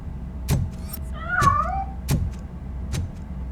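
A cat meows once in the Robocop Rogue City video game, a short rising and falling cry between sharp clanking footstep-like thuds over a low steady hum; no talking.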